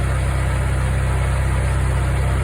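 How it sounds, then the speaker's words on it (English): A Harbor Freight bench grinder spins steadily at full speed, giving a loud, constant motor hum and whine with no change in pitch and no voices. "There goes my Harbor Freight grinder, bench grinder."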